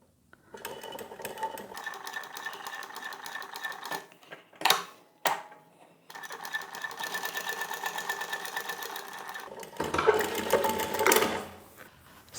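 An industrial walking foot sewing machine, model 1903SX, stitches through eight layers of vinyl in fast rattling bursts, running for a few seconds, stopping briefly with a couple of sharp clunks, then resuming.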